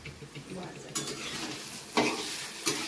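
Fenugreek, poppy seeds and mustard seeds are dry roasted in a pan for chutney, with a soft steady rustle of seeds being stirred and a few sharper scraping strokes at intervals.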